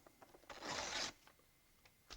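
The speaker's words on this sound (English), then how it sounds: "sometimes I take them and just rip them in half." A non-absorbent surface used in model building being ripped in half, a quiet half-second tearing rasp preceded and followed by a few soft rustles and taps, close and faint with no talking.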